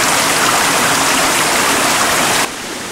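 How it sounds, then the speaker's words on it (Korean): A waterfall in a mountain valley roars steadily, loud and close, a dense continuous rush of falling water that drops a little in level near the end. "폭포예요."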